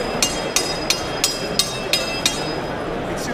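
A blade strikes an anvil at a knife show, chipping chunks off it: seven sharp, bright metallic clanks in a steady rhythm over constant crowd murmur and background talk.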